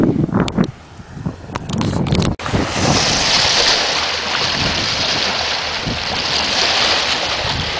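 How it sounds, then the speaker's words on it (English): Waves wash against the rocks along a dike, a steady broad surf roar with wind buffeting the microphone. Some bumps and handling knocks come first, then a brief dropout, before the water noise settles in continuously. "It's nice, the waves and the rocks."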